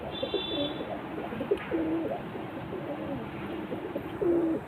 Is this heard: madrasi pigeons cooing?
yes